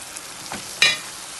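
Peppers and tomatoes sauté in a pan, a soft steady sizzle with a few light stirring clicks and one brief sharper crackle, close and fairly quiet.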